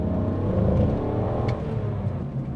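BMW E46 330ci engine pulling at full throttle, a steady, loud, close mid-pitched drone that holds and rises slightly without a break.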